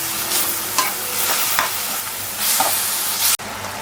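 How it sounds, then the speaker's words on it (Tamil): Beetroot halwa is stirred in a pan after a glass of milk is poured in, giving a loud, close bubbling hiss with soft spoon scrapes, cut off by a sharp knock near the end. "பாலை சேர்த்து நல்லா கலக்கிடுங்க."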